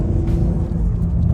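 A BMW G82 M4's engine intake gives a steady, close, low rumble while driving, holding a constant drone with no break and no voices.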